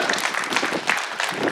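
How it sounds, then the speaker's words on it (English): A short, dense burst of audience clapping at the reopening of Pop Lloyd Stadium, many hands applauding together for under two seconds. "Let's give them a round of applause."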